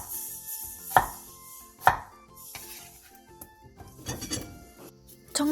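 Knife chopping a radish on a cutting board while prepping side dishes, giving a few sharp, close knocks spaced about a second apart, then a quicker burst of cuts toward the end.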